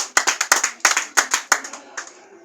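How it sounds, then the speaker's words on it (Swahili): A church congregation clapping in rhythmic bursts, a dozen or so sharp, close claps in quick groups that taper off and fade toward the end. "Pigia Mungu makofi mazuri."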